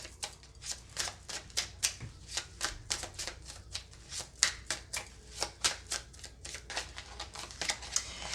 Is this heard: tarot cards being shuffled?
yes